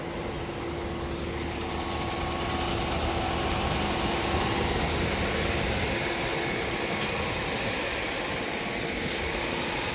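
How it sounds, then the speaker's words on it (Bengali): A concrete boom pump machine drones steadily at a building site while pouring a plinth beam, a constant broad mechanical roar with a faint high whine and no pauses. "আজকে প্লিন বিম ঢালাই হচ্ছে ভুম মেশিনে"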